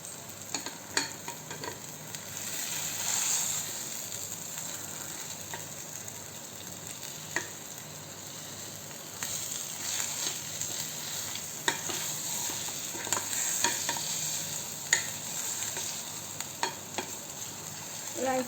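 Stuffed bread cooking in a pan gives a steady, close sizzle with scattered light scrapes and taps from stirring throughout, and nobody speaks.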